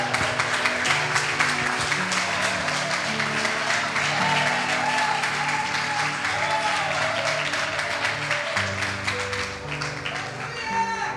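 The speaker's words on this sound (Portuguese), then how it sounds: "e as palmas para Jesus que Ele merece" Church congregation applauding for Jesus, a steady wash of many hands clapping filling the room for the whole stretch, fading slightly near the end, with voices audible beneath.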